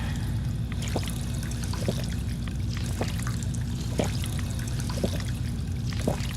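A water fountain runs in the game Fallout 4, giving a steady, even splashing rush with small drips and trickles popping out about once a second.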